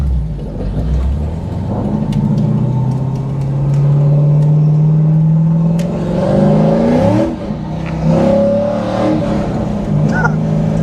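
A cammed C5 Corvette engine revs hard and rumbles with rising and falling throttle as the tires spin, heard from inside the car along with some talking.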